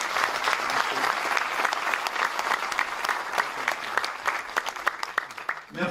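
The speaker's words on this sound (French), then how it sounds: "Applaudissements s'il vous plaît" Studio audience applauding on a French television talk show, a dense steady clapping with sharp individual claps standing out, loud and sustained throughout before easing slightly near the end.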